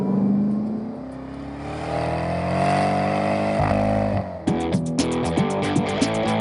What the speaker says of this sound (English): And it's got one of the great exhaust notes in American driving today.